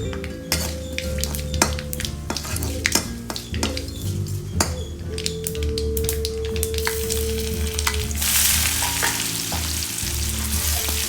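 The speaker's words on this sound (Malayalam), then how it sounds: "ആദ്യം വെളുത്തുള്ളി ഇടാം." Crushed garlic sizzles steadily in a hot pan, a continuous loud fry with stirring scrapes and occasional clinks of a utensil against the pan.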